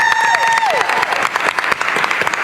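A crowd at a San Diego Comic-Con 2022 Stranger Things panel claps loudly for a volunteer, a dense burst of applause with a few sharp claps, while a brief whistle-like tone glides downward at the start.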